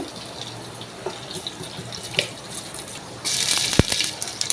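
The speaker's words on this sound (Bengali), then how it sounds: "এই তো আমি পোলাওর চালগুলো ওয়াশ করে নিচ্ছি।" Polao rice being washed under running tap water, with quiet rinsing and clinks that give way to a louder gush of flowing water near the end.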